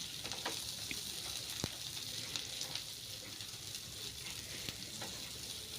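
Green chillies, curry leaves and onions frying in a pan for a tondekai palya, an even, fairly faint sizzle with scattered light pops and occasional stirring clicks, heard alone without speech.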